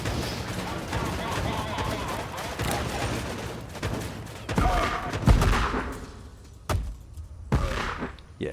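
Artillery and machine gun fire in the Warpips war game, a dense rolling barrage of thuds and crackling bursts with several heavy booms standing out near the end, sounding under a voice.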